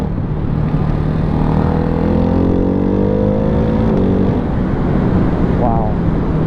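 A Ducati Hypermotard 698 Mono single-cylinder motorcycle ridden on desert roads in Arizona, its engine revving up and down in rising and falling sweeps under steady wind rush, with a rider talking over it.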